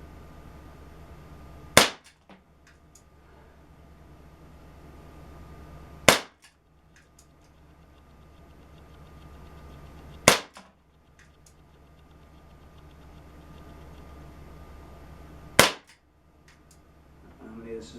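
An air pistol fires at a target from about fifteen feet, four sharp isolated shots spaced several seconds apart over a quiet background, each a crisp snap with a short tail.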